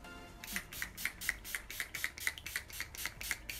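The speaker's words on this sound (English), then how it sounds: "And then I'm setting my face with the Urban Decay All Night Makeup Setting Spray." A rapid series of short, faint spray bursts, about a dozen quick evenly spaced pumps of an Urban Decay All Night makeup setting spray bottle close by, misting a face.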